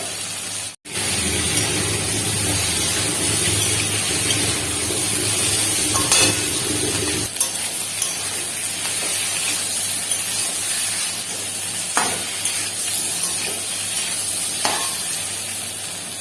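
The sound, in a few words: fried potato and cauliflower stirred into cooked spice paste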